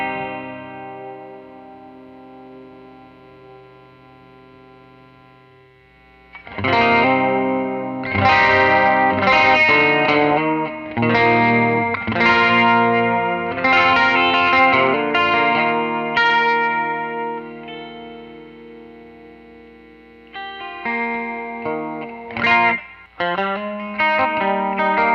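Electric guitar run through a chorus pedal with the gain turned up, a thick, shimmering, overdriven tone on a pedalboard, playing loud strummed chords and licks after a quiet, sustained opening, with a few choppy hits near the end.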